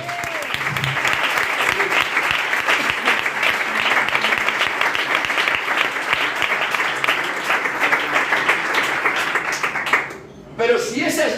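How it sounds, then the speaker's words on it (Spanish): A church congregation breaks into dense, sustained applause that stays loud for about ten seconds, then cuts off abruptly as a voice starts speaking. "Dale un aplauso al Señor."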